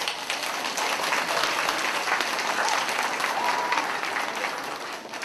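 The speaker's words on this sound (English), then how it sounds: "Can we give them a round of applause?" Applause from parents and grandparents at a kindergarten class's first academic assembly, a steady wash of many hands clapping that holds evenly for about five seconds before easing slightly at the end.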